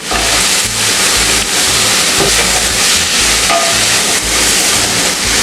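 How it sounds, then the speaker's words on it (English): Crab meat sauteing and being stirred in a hot pan for an Indian-style dish, a loud continuous sizzle and hiss with rhythmic scraping strokes of the spatula, no talking. "Now the meat should get cooked, so saute it thoroughly."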